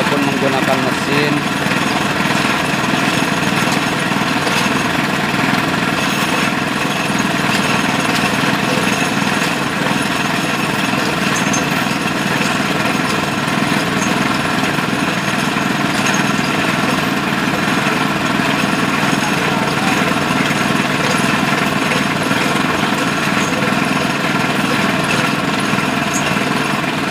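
A motorized rig drills a water borehole with a continuous loud mechanical drone and rattling, unbroken for the whole stretch, and voices can be heard at times.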